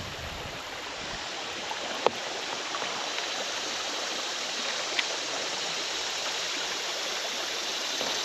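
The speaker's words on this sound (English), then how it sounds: "this right here is like the perfect looking stream." A clear, deep, fast-flowing river stream runs as a steady, full broadband rush close by, with a couple of brief knocks and no voices over it.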